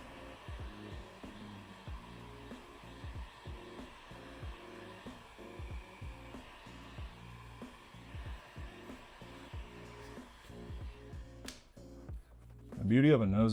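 A heat gun blows steadily while Nosotech vinyl wrap film is heated on a Honda Integra side skirt, a continuous airy whoosh with a hum beneath, brief handling noises near the end and speech-like tones mixed in.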